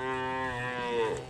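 A cow in a pasture gives one long, loud, close moo that fills the whole moment, with no one talking over it.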